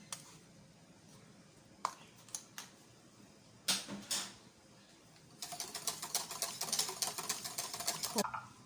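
Eggs, sugar and coconut milk for pandan custard are whisked in a bowl, a few isolated clinks followed by a fast, rapid run of rhythmic whisk taps against the side.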